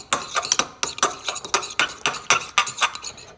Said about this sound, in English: then I'm just going to mix it to an even consistency